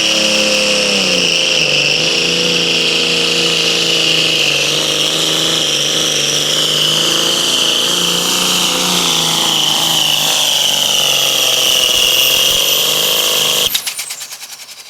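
A John Deere 4455 tractor pulls at a tractor pull, its engine holding a loud, strained, sharp roar with a whining high tone that rises slightly before cutting off abruptly near the end.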